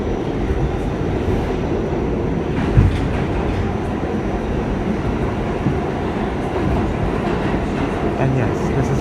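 An R46 subway train on the A line rides toward Inwood-207th Street, a loud steady interior rumble and roar with occasional rail clunks and a soft rattle throughout.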